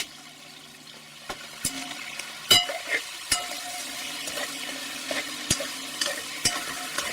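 Beef frying in a kazan on maximum heat, a soft continuous sizzle broken by sharp metallic clinks and scrapes of stirring at irregular intervals.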